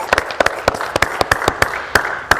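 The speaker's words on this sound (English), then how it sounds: "a round of applause for Kumuhula Leimomi" Scattered hand claps from a panel discussion audience at the Asia Pacific Dance Festival, honoring a hula teacher; a few loud, distinct claps in an uneven rhythm, close by and brief.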